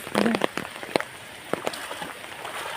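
Heavy rain in a house courtyard: steady patter with scattered sharper drops and splashes, a continuous wet hiss filling the background.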